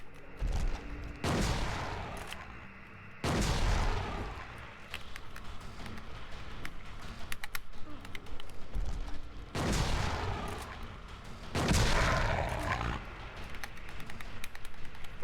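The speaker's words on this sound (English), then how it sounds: "I might as well just fucking stand here and keep shooting him" Repeated gunfire from shooting an enemy in the survival horror game Silent Hill 2, with several loud, sharp blasts at irregular intervals over a steady background of game ambience.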